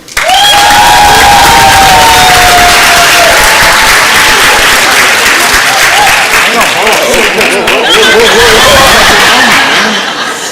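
A school board session audience applauds and cheers loudly for 8th and 5th grade student winners, with a dense, sustained wall of clapping and some whoops that holds for about ten seconds, then eases slightly at the end.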